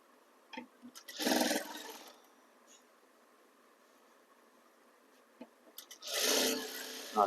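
A home sewing machine runs a decorative stitch along a piped sleeve edge, in two short close bursts of whirring stitching separated by quiet handling and faint rustles.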